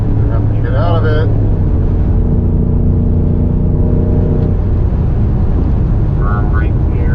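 A BMW M5 Competition accelerates hard on the Indianapolis Motor Speedway F1 road course, its engine droning loud and steady from close by while someone talks over it.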